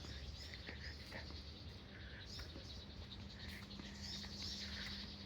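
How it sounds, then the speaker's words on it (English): Scattered high chirps and tweets from birds over a steady outdoor background hum at a beach resort in Khao Lak, Thailand, fairly faint and distant, with no talking. "Hear the birds."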